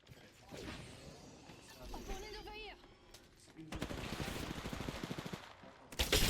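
Gunfire in the tactical shooter Valorant, with bursts of rifle shots crackling over a busy game mix and a caster talking throughout, the shooting growing denser and louder toward the end.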